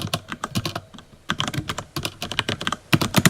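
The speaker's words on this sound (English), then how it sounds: "Type intensifies." Fast, uneven clatter of typing on a computer keyboard, with bursts of keystrokes and short pauses between them, close up and fairly loud.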